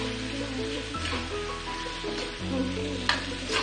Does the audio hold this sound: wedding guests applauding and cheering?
no